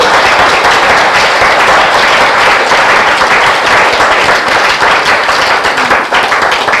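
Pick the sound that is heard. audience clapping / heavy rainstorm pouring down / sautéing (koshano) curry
audience clapping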